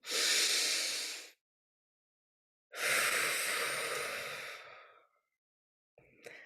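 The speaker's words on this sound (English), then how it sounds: "we'll take a collective breath together" A group of dancers and workshop participants draw a long collective breath together on a count, heard as two loud, airy breathy swells, a short inhale then a longer sighing exhale, followed by a brief faint sound.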